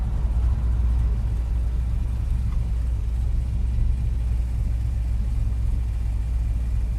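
A 1965 Dodge Coronet 500 sleeper with a 471-horsepower engine rolls along in a straight line, a steady low rumbling drone heard from inside the car without any talk.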